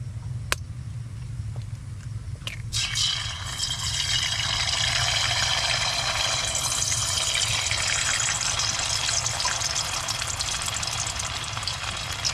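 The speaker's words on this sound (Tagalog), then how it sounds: "Magpiprito po muna tayo na itlog." Eggs frying in a pan: a few sharp pops, then a steady, close hiss of sizzling oil that swells and holds for the rest of the stretch, with no talking.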